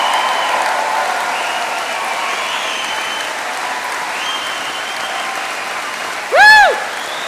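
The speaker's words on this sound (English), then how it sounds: "we're going to do a bit of clapping." Graduates clap loudly and continuously at a Portsmouth University engineering graduation ceremony in 2013. A single high whoop rises above the applause near the end.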